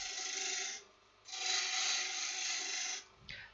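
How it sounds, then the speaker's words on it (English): A spindle roughing gouge rolled over to cut on its bottom edge against spinning wood on a lathe while turning a wooden mallet, giving a steady rasping hiss in two long bursts with a short pause between, loud and close, no talk. "roll the spindle roughing gouge right over. So you're cutting on that bottom ring."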